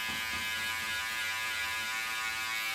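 Electric hair clippers buzz steadily at close range while cutting a three-step taper, a continuous bright hum with no voices.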